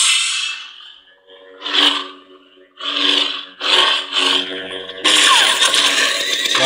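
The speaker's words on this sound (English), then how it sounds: "This is the Ronin and Bandit sound fonts from Kyberphonic." Lightsaber swings and clashes from the Kyberphonic Ronin and Bandit sound fonts on a Saberforge "Bane" saber with Proffie board and 28mm SO Elite speaker: a humming buzz broken by several loud whooshing swing bursts, then a sustained crackling roar.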